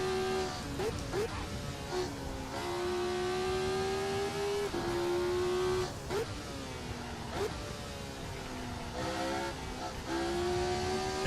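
A race car in Assetto Corsa revs steadily on track, its engine tone rising and dropping through gear shifts in a loud continuous drone, with someone talking over it.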